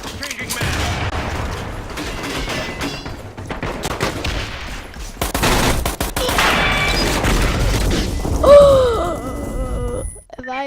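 Shotgun fire in the video game Metro Conflict, loud bursts and blasts mixed with mechanical clatter and gasps amid chaotic continuous game action.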